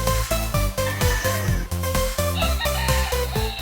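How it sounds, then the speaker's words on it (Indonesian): A Philippine rooster crows over loud, rhythmic background music that plays steadily throughout. "di balik suara kokok ayam Filipina"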